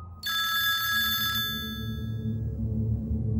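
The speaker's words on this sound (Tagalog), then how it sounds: "Maya-maya, nagring ang cellphone ko." A cellphone rings in one bright, shrill burst lasting about a second, then cuts off and leaves a faint low hum in a quiet setting.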